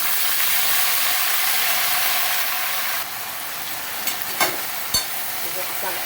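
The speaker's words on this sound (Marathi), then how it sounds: "त्यानंतर जी आंबाड्याची भाजी धुवून ठेवलेली ती टाकायची आपल्याला." Washed ambadi (roselle) greens hit hot oil and frying masala in a Maharashtrian home kitchen, a steady close sizzle that softens halfway, followed by a few clanks of stirring.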